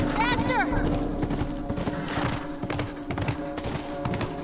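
Horse hooves clip-clop in The Last of Us, a quick galloping patter mixed with busy game noise and tonal music, with brief vocal sounds over it.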